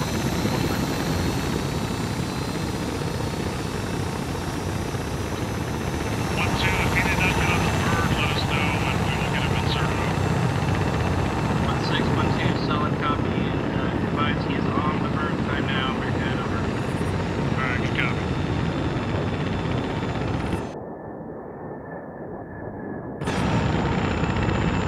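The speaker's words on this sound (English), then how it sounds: "The fucking helos are louder than goddamn A10." Helicopters flying in a military combat game, a loud, continuous rotor and engine drone with faint scattered higher chatter, a voice talking over it, and a short quieter dip near the end.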